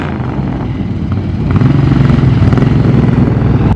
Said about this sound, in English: Oh, is it a rev battle?